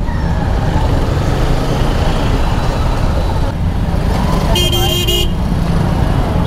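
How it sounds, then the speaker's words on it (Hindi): Dense traffic jam on a road into Varanasi heard from a motorbike: constant loud engine and road rumble, with a sharp horn toot blaring partway through and voices talking over the din. "इतना भयंकर जाम नहीं देखा था"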